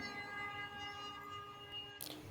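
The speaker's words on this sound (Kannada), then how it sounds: "ಕಾಣಿಸ್ತಾ ಇದೆ, ಹೋಗ್ತಾ ಇದೆ ಟ್ರೈನು." A train runs along a railway track near Huligi, giving a steady droning tone with layered harmonics that holds throughout and ends in a brief rustling burst close by.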